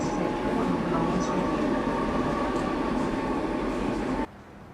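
A London Underground train runs with a steady, loud rumble and rattle from inside the carriage, then cuts off abruptly near the end.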